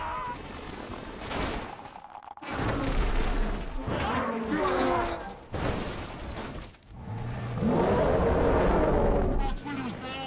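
Helicopter crashing in a Kong: Skull Island film scene, loud chaotic bursts of impacts and shattering debris broken by brief silences, with shouting voices mixed in.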